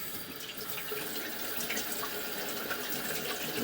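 Water running steadily into a residential sewer line during a camera inspection, a continuous close rushing and splashing flow with a few drips, no talking.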